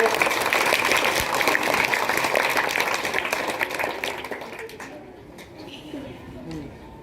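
Clapping from a crowd at a school graduation ceremony in a village middle school, dense and steady at first, then thinning and fading out, with voices talking over it.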